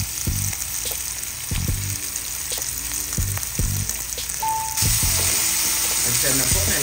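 Tomato hits a pan of sautéing onion and ginger with a loud, continuous sizzle. Regular utensil scrapes and clacks punctuate it, and the frying swells a little partway through.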